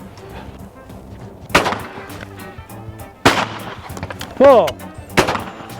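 Shotgun shots at clay targets with a Perazzi HTS or Yildiz Pro Sporting, giving two loud sharp reports about two seconds apart with short outdoor echo, followed by a brief exclamation and a third crack near the end.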